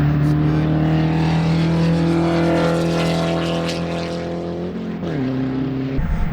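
Race cars in an SRF Spec Racer Ford race at Sebring circuit drone past with a loud, sustained engine tone that holds steady, then dips and shifts as the pack moves through a turn.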